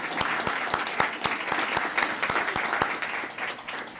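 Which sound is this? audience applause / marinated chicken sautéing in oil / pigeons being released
audience applause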